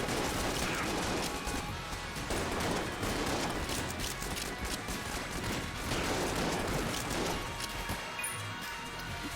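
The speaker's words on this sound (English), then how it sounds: "There's a lot of bullets traveling across the screen every time I pull the trigger on this gun." Rapid, sustained fire from two guns at once in Enter the Gungeon, a dense barrage of shots and impacts at steady loud volume with a few small surges and no talk.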